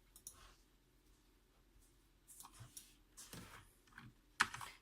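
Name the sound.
typing on Corsair K65 keyboard keys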